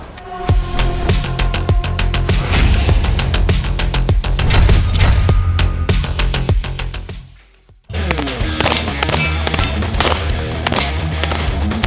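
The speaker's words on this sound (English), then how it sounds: "Today we're shooting the newest Kimber pistol, the 1911 DS Warrior." Rapid, dense volleys of loud pistol shots from a Kimber 1911 DS Warrior fire at a shooting range, with a brief pause near the end before the string of close reports resumes.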